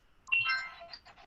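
Electronic phone ringtone chirping in a short, bright burst of warbling tones, moderately loud and alone with no voices over it.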